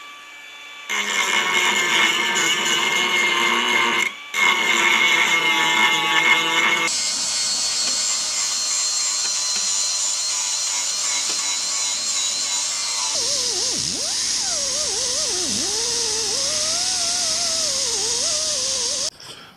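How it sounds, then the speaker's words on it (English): An angle grinder works down rust-repair welds on a steel car body panel, a loud continuous high whine broken by a brief pause early on, then shifting pitch and wavering as the disc bites and eases through the metal. "Now we got to go about and grind her all out"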